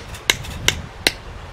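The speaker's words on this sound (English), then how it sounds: "So I'll take a hammer and beat it" Three sharp, evenly spaced hammer blows strike a hard 3D-printed plastic part, each a loud crisp knock standing alone over low background hum.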